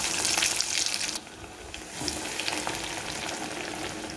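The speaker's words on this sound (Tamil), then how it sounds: "இப்போ நம்ம ஆயிலில் போட்டு ஃப்ரை பண்ணிக்கலாம்." Sausage bread rolls fry in hot oil in a kadai, giving a steady, dense sizzle and bubbling that dips briefly and then carries on close up, with no talking.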